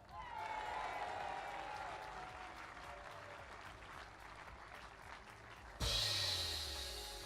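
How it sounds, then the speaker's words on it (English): An athletics stadium crowd cheers and applauds in a sustained wash of noise at a multi-sport games, with a louder burst of crowd noise near the end. "So give yourselves a big cheer"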